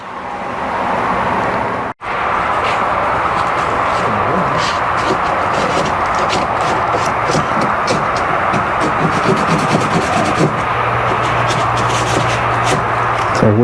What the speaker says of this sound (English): heavy grit sandpaper and just kind of sand that down a little bit